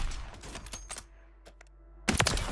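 A sniper rifle shot in Call of Duty Warzone, a sharp loud crack near the end after scattered quieter gunfire and clatter, ringing briefly into a dense burst.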